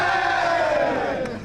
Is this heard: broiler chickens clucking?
no